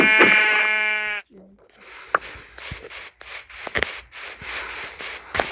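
Minecraft sheep giving a loud, close bleat with a wavering tone, followed by a few seconds of quieter scuffling, clicking and muffled game noise.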